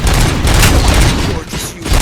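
Enemy gunfire and blasts in RoboCop Rogue City, a dense, loud barrage of overlapping shots and booms in a chaotic firefight, briefly easing before resuming.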